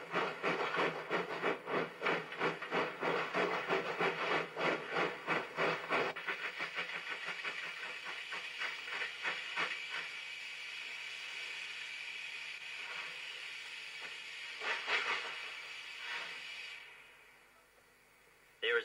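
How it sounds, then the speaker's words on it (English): Steam locomotive working hard up a steep 1 in 30 grade with tight curves on the Dorrigo line, loud rapid exhaust beats that gradually slow and fade into a sustained steam hiss, then drop away near the end. "7 miles of 1 in 30 grade with mainly 8 chain curves makes for some hard steaming."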